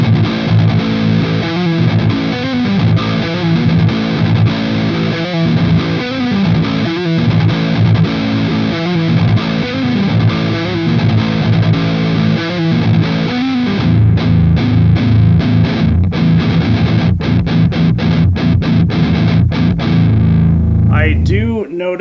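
Distorted electric guitar played loud and continuously through an amp's purple channel, with chugging rhythmic riffs giving way to sustained strummed chords and a brief cut at the end.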